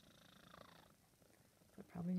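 A cat purrs quietly nearby in an RV, a soft low rumble partly under faint background noise, followed by a louder tonal sound near the end.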